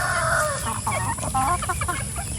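Several free-range chickens on a grassy farm cluck and murmur together over a steady outdoor background, soft overlapping calls with no talking.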